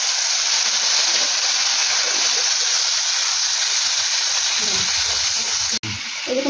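Onion, tomato and ginger-garlic pastes sizzle loudly in hot oil for a Bengali jackfruit curry, a continuous bright hiss with a faint voice briefly audible beneath it.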